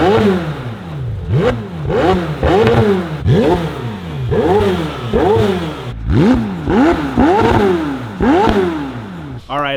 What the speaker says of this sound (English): as you guys just heard, the stock exhaust system on the Senna